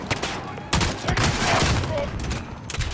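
Continuous heavy gunfire in the game Modern Warfare fills the space with rapid overlapping shots, loud and close, with brief lulls. Voices shout over the shooting.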